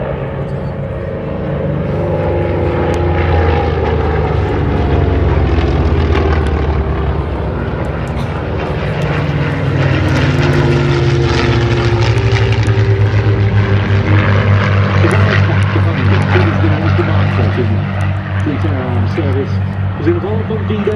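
A P-47 Thunderbolt fighter in 492nd markings flies at the IWM Duxford D-Day anniversary airshow, its propeller engine droning loud and steady throughout with a rising, shifting pitch while a commentator talks over it.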